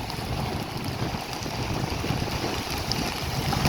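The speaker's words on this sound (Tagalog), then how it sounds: "Ay sa lakas ng hangin." Strong typhoon wind gusts along the edge of Manila Bay, a heavy continuous roar with low buffeting rumbles battering the microphone, steady and loud throughout.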